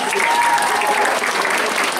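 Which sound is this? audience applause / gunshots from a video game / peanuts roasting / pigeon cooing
audience applause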